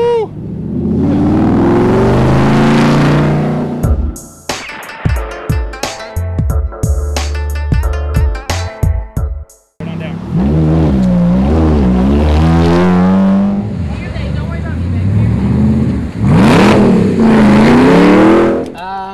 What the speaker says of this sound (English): Oh, look at this here. Oh, we got a nice Audi coming in.